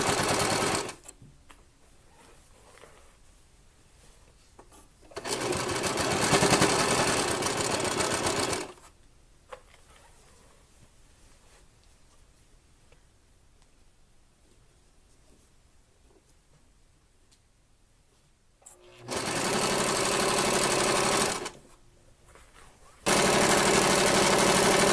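A sewing machine stitching a dress seam, running in loud steady bursts of a few seconds each, separated by long quiet stretches.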